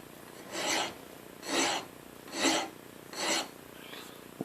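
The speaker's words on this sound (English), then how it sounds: "This is a round file on the back." Round file stroking across metal on a lathe tool post, four slow, even rasping passes with short pauses between, close and clear.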